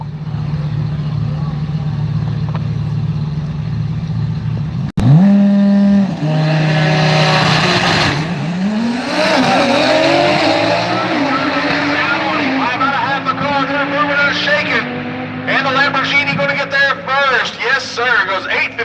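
A Lamborghini and street hot rods launch off the line at a drag strip, with engines revving loudly before a sharp launch and then roaring hard with rising gear shifts over a long, sustained pull.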